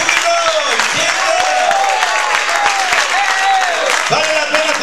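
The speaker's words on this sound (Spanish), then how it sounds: "¡Denle un aplauso al Señor!" A church congregation applauds in a steady, dense wash of clapping that fills the room, heard under a preacher's loud, sung-out Spanish exhortations.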